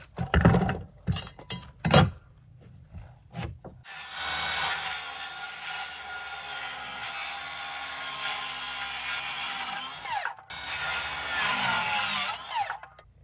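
Power saw trimming dimensional lumber to 12 feet while framing walls at an off-grid mountain cabin: a few knocks and handling sounds, then a loud sustained cut, a short break, and a second cut.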